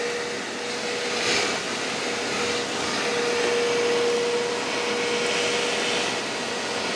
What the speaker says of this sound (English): let's try the Pro Heat Plus. So this one might be a little bit quieter than this one, not much.